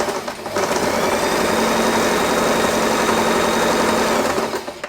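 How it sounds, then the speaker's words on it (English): A sewing machine runs steadily while stitching a second line of fabric for a ruffle headband, a continuous close whirring and rapid needle rattle lasting a few seconds, then stopping. "Now let us sew the second line."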